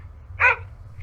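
A single short dog bark from a video game, sounding once at moderate distance over a low background hum, with a barely audible brief yelp-like tail.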